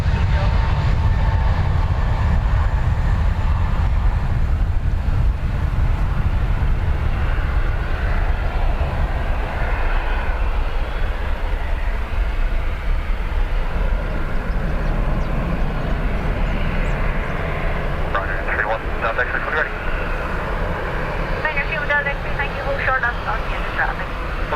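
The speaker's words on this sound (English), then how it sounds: "A321 Neo to Cleveland." An Airbus A321neo departs Dublin Airport for Cleveland, a broad, steady jet roar running throughout at a moderate distance, fading slightly toward the end, with people talking over it.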